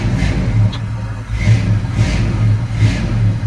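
1978 Ford F150 short-bed 4x4 pickup engine running close by with a steady low idle throb and a few gentle rev blips, no talking.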